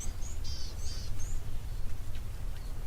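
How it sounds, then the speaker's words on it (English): Small birds give a few high, thin chirps at a wildlife waterhole, faint over a constant bed of outdoor ambient noise. "There's a couple more bird species."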